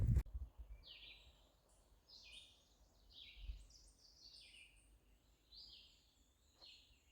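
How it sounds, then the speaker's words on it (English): Faint birdsong drifts through quiet morning woods on the Appalachian Trail near High Point, New Jersey, with a few birds trading thin, high chirps and trills at a distance. "Don't know if you can hear all the birds or not"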